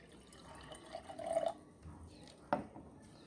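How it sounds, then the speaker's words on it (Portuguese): A little water is poured into a container for a classroom demonstration of a heterogeneous mixture, giving a faint, brief splash against soft room noise. "Então nós vamos colocar um pouco de água."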